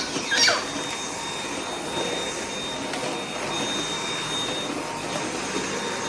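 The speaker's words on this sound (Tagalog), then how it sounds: "Ang batang hindi takot sa vacuum." A household vacuum cleaner runs steadily nearby with a broad, even whooshing roar and a faint high whine, holding constant throughout.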